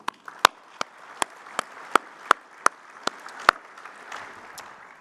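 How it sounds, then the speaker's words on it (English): Scattered, distinct claps ring out in a conference hall at a fuel ethanol workshop, a sparse round of audience applause with individual hand claps spaced apart and fading toward the end. "Let's give another round of applause to both Steve and Kurt."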